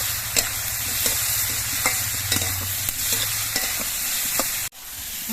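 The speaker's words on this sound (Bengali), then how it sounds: "এবার সব কিছু দিয়ে আস্তে আস্তে জাল দিয়ে কিছুক্ষণ কষিয়ে নিতে হবে" Spices, potato and ginger cooking down slowly with tangra fish over a low flame: a constant close sizzle with regular scraping stirs of a spatula against the pan, broken briefly near the end before the hiss returns.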